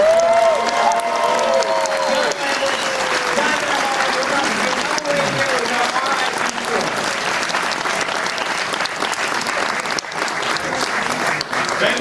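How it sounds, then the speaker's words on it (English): A theater audience at a Halloween Horror Nights Q&A breaks into sustained applause, dense clapping with a few cheers that holds steady for the whole stretch. "how about a big round of applause?"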